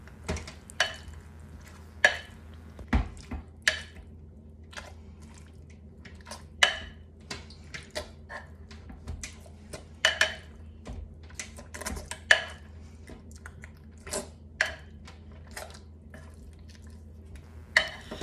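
Beans being stirred and mashed in a crock pot, irregular wet squelches and soft clanks of a utensil against the pot, close and scattered across a quiet background.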